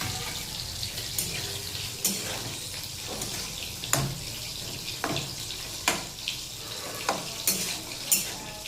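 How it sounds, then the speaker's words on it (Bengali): Pabda fish and ridge gourd fry in hot oil, a steady close sizzle broken by repeated sharp clinks and scrapes of a spatula against the pan. "এদিকে মাছটা ভাজছি আর এদিকে হচ্ছে ঝিঙে ভাজা"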